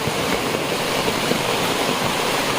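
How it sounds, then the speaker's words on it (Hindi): A hill stream in flood rushes hard beside a wall at the gate of a jungle resort, a loud, steady, broadband roar of flowing water that continues without break and with no voices. "जंगली रिजॉर्ट के गेट पे कैसे पानी आ रहा है, बिल्कुल अपनी दीवार से सट के ज़बरदस्त पानी चल रहा है।"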